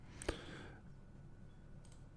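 A single sharp mouse click while working in Photoshop, near and crisp against a quiet background, followed by faint faint room hiss and a softer tick near the end.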